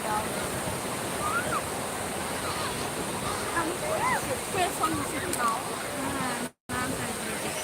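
Sea waves wash onto Rishikonda beach in a continuous, broad roar of surf, with faint voices and cries of people mixed into the steady rush.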